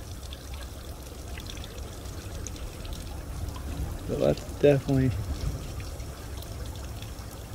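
Water flows through a poppet valve in a steady, soft rushing stream that runs under the whole stretch, while someone speaks briefly near the middle.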